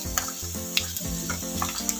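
Tofu and potato pieces frying in hot oil for a pork dish, a steady crackling sizzle with sharp spitting pops scattered throughout, close and fairly loud with no talking.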